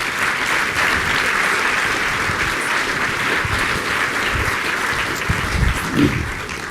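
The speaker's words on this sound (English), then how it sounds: "Let's have another round of applause for our two speakers today." An audience at a talk on curing cancer applauds its two speakers, a steady even wash of clapping held for several seconds before it begins to fade.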